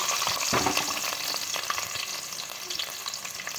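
Crushed garlic, shallots, green chilli and ginger fry in oil, producing a loud, dense, continuous sizzle with crackling spatters and occasional stirring scrapes close up, no talking.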